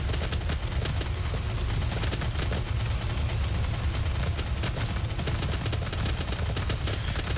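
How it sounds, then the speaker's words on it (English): A Gatling gun in a Doom SnapMap level fires without letup, a dense, loud, rapid stream of shots running continuously from start to finish with no pauses. "Gatling gun it is."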